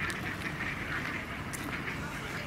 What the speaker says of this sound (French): il y a des gens qui donnent à manger au canard